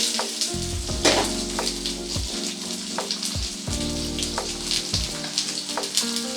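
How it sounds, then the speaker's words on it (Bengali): Potatoes fry in hot spice-tempered oil for a light vegetarian papaya curry, giving a loud, continuous close-up sizzle with several spatula scrapes and knocks against the pan. "প্রথমে ফোড়নের মধ্যে আলুগুলোকে দিয়ে দিলাম।"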